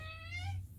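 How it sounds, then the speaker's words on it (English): A pet cat gives a single short, close meow with a slightly falling pitch, heard alone in a quiet room with a low hum beneath it. "Yeah, that's my cat."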